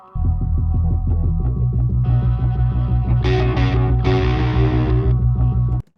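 Layered, effect-heavy electric guitar plays a repeating pattern, building as brighter distorted parts join partway through, then stopping abruptly at the end.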